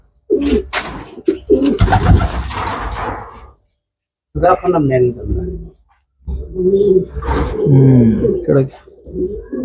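Racing pigeons in a loft, soft throaty coos in bursts mixed with shuffling and handling noises, close by, with people talking at intervals.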